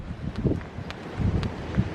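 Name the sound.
strong wind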